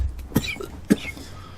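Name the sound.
voice imitating a hacking smoker's cough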